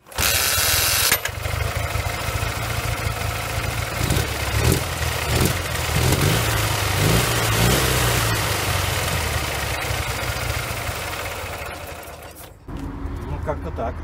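A rebuilt Ural motorcycle engine, assembled from defective parts, fires up and runs at a loud, rough, continuous idle for over twelve seconds before cutting off abruptly.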